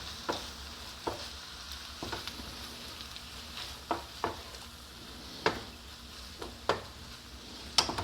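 Sausage stirred through its own juice and fat in a hot pan, with a constant close sizzle punctuated by sharp spoon clinks and scrapes against the pan every second or so.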